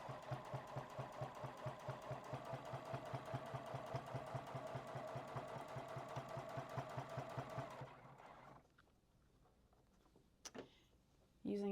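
A sewing machine topstitching binding on a quilt runs in a fast, steady mechanical rhythm for about eight seconds, then stops. A few faint clicks and a brief louder knock follow in the quiet.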